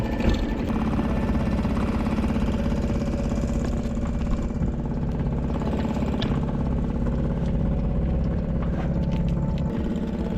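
An outboard motor runs steadily on a small sailing dinghy on the Schlei, a constant close mechanical drone with a faint rattling tick throughout and no talking.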